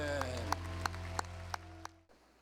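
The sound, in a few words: congregation applauding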